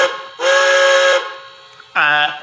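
A Pennsylvania Railroad three-chime steam whistle from TCS WOW Sound in a Bachmann Spectrum K4 #1361 model locomotive gives a long steady chord, then a brief pause, then a shorter second blast, loud and close.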